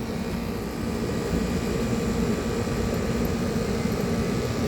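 A running Bryant air conditioner with a Copeland scroll compressor puts out a steady, even drone with a broad rushing hum, constant and unbroken throughout, with no voices.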